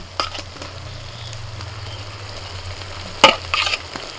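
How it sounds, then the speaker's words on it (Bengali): Fried potatoes stirred into a spice masala with yogurt in a pan, a steady low sizzle running throughout with a few sharp scraping stirs near the start and a louder clatter of stirring toward the end. "এবার ভাজা আলুগুলো আমি দিয়ে দিচ্ছি।"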